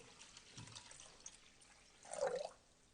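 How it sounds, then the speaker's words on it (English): Water poured into a Thermomix TM6 mixing bowl, about 995 grams, making a faint trickle that swells into a brief louder splash near the end. "So we're going with 995 grams of water."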